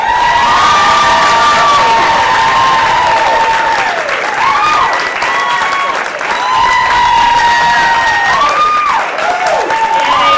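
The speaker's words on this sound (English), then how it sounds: "Ladies and gentlemen, give it up for Jillian and Deane." A comedy club audience at a stand-up show claps and cheers loudly and steadily, with whoops and shouts rising over continuous applause throughout.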